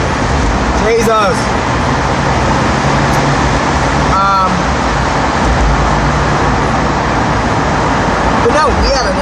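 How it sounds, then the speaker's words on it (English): Loud trucks roar past on a road, a steady heavy rumble of traffic that fills the whole stretch, with brief squeals and whines rising over it. "I hate trucks, they're so damn loud."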